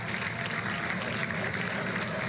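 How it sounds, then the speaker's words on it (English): A crowd watching a rocket launch from an outdoor lawn cheers and claps continuously, a dense, even roar of applause and voices that stays at a moderate level throughout, with no single voice standing out. "You can hear them cheering."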